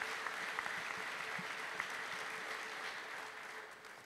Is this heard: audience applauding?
yes